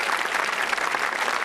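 Studio audience of a 1986 British TV game show applauding a contestant, a dense, even, sustained wash of clapping, loud and steady with no voices.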